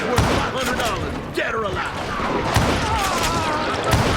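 Gunfire from the Western shooter game Call of Juarez Gunslinger crackles in several quick bursts with thuds and ricochet-like whistles, a busy moderately loud firefight over game music.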